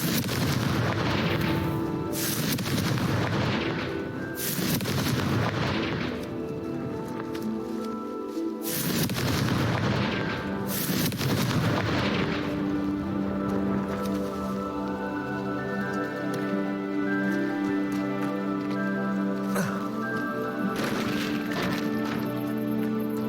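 Confringo fire-spell explosions in Hogwarts Legacy burst loudly several times in succession, booming and crackling over a sustained musical score.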